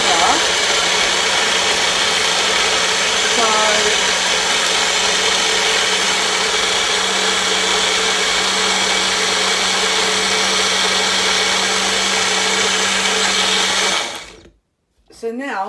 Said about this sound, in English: I've popped this in the remaining pulp into my blender. So I'm now going to blend that just to mix it up even further.